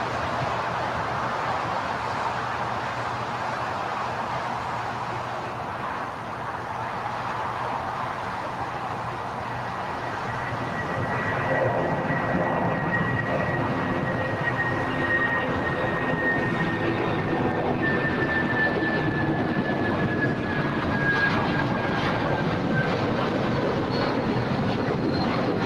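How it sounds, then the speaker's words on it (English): A United Boeing 757 airliner taking off at LAX: a steady, distant jet roar that swells slightly midway, with a thin rising whine, continuous and heard alone without voices. "United 757 also taking off."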